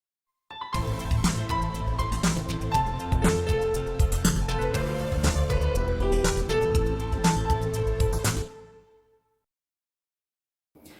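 A Yamaha keyboard set to piano plays an amateurish song ending, with dense chords sounding steadily and loud, then a final held note that fades out into silence.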